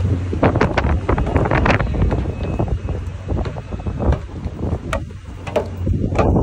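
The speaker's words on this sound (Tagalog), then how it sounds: "Hangin." Strong gusty wind buffets the microphone in Dumaguete, a constant close rushing roar with surging gusts and no clear voices.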